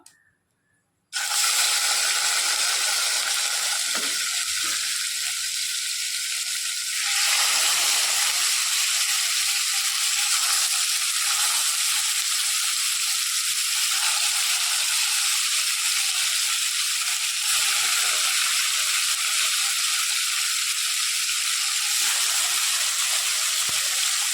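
Marinated fish frying in hot oil in a pan, a loud continuous sizzle and hiss that holds steady for the whole stretch.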